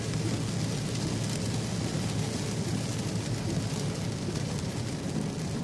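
Steady rain pours down during an August storm, a dense, even hiss that holds without pause, close and loud, with no voices.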